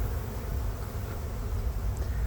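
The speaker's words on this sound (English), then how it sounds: "And sure enough, it's a swarm." A honeybee swarm fills the air with a dense, continuous buzzing, loud and close, a steady drone of many wings with no voices over it.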